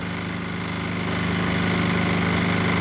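A Micro-Air EasyStart 364 equipped RV air conditioner's fan blower motor runs with a steady, loud mechanical hum and drone, rising slightly in level partway through, with no talking.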